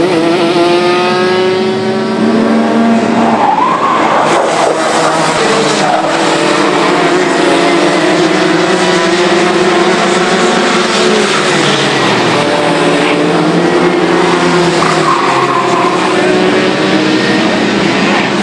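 Go-karts lap a track during a training session, engines loud and close with rising and falling revs as they accelerate and pass, a continuous racing drone with no talking.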